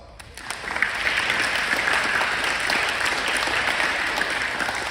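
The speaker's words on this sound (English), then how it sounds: "So you can give yourself a round of applause." An audience applauds in a school gymnasium, a dense sustained round of clapping from a large crowd that holds steady throughout.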